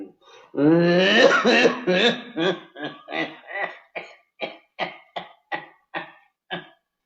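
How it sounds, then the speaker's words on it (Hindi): A strained, drawn-out vocal groan breaks into a long run of about a dozen short, harsh coughs from a sick man in a film scene, close and loud, gradually spacing out. "तुम्हारी खांसी तो बहुत जोर पकड़ गई है"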